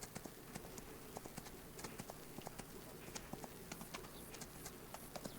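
Horse hooves clopping in the Farming Simulator 25 video game, a steady run of light, evenly spaced hoof taps at moderate distance over a soft ambient background, with no talking.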